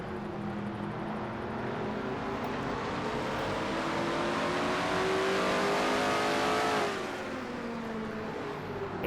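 Car 24 in a NASCAR racing video game at the Goody's Body Pain 500 roars continuously at high revs, a loud close engine drone with gear-shift pitch sweeps, rising to a peak and easing slightly.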